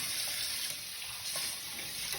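Kitchen tap running as water warms for mixing yeast dough, a steady faint hiss of flowing water into a sink with no talk.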